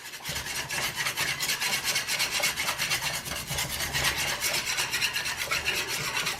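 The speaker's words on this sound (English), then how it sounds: "So it's a lot of whisking for about 3 or 4 minutes." A honey garlic glaze with brown sugar being whisked steadily in a bowl, giving a continuous rapid scraping and rubbing with no speech.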